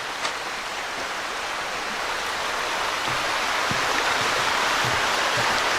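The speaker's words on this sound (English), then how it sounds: "sound of the creek" Wild Creek Falls creek flowing in Pennsylvania, a steady broadband rushing hiss of water, close and continuous with no voices.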